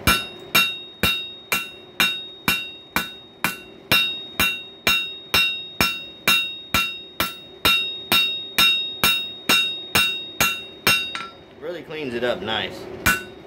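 Two-pound hammer striking a steel rail spike on an anvil, a steady run of about twenty-five sharp, ringing metallic blows near and loud, ending with a short burst of scraping and rattling; someone speaks briefly.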